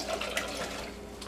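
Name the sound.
water being poured into barbecue sauce mix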